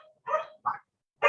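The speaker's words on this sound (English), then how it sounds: "Pardon my dogs." Domestic dogs give three short, close barks with brief gaps between them, fairly faint and alone.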